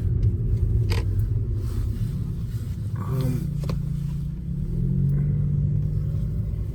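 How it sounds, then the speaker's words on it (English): A car passes close by with a continuous low engine rumble and road noise throughout, swelling slightly in the middle and toward the end as it moves nearby. "I don't know why this car is following me right now."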